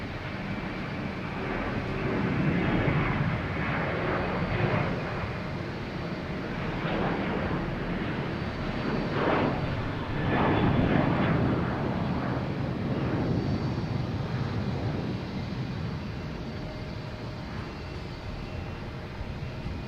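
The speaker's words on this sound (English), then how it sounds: "next taking off is Delta heading to Fort Lauderdale, 737-800" A Delta Boeing 737-800 taking off at Boston Logan, a sustained broad jet engine roar that swells and eases over twenty seconds, heard from a distance with wind buffeting the microphone and no speech.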